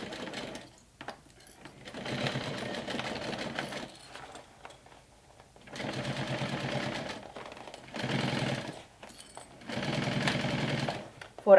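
A sewing machine runs in four separate bursts along a backpack seam, each a steady close whir of a few seconds with short quiet pauses between them.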